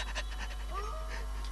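A dog pants in quick, rhythmic, breathy puffs close by, with a brief high whine partway through, over a low steady background hum.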